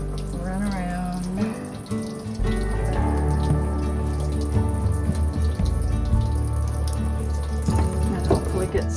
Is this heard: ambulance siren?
no